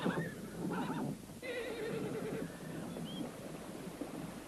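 A horse neighs clearly with a rising and falling whinny, followed by a second longer call and faint trailing sounds against a steady background hiss.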